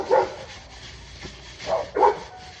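Household dogs bark at people passing outside, sending short muffled barks and yips in a few separate bursts, with a quieter one in the middle, set against steady background noise.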